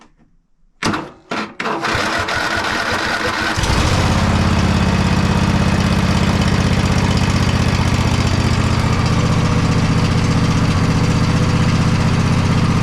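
A Poulan lawn mower engine with a sticky choke is pulled a few times, then catches and settles into a loud, steady running drone close by.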